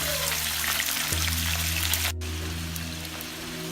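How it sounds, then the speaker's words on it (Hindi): Chicken frying in a pan with browned onions, a loud continuous sizzle and crackle close by over a low steady hum, briefly cut off near the end, with no voices. "अब हम इसमें चिकन डाल के उसको 5 मिनट्स के लिए फ्राई करेंगे।"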